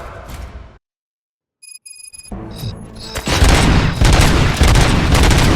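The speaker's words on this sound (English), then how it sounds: "Gunshots? What's going on?" Loud bursts of rapid gunfire and booming blasts in the video game RoboCop: Rogue City erupt after a brief silence and electronic beeping, continuing densely to the end.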